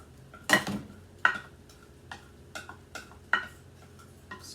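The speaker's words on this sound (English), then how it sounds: "Scraping my pan out" A baking pan being scraped out for a cantaloupe tea loaf, heard as a series of sharp metallic scrapes and clinks spaced irregularly, fairly close, with quiet gaps between strokes.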